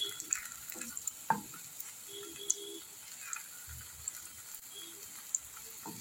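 Cottage cheese (chhana) bora fry gently on low heat, a soft, quiet sizzle with faint bubbling and scattered light pops and clicks.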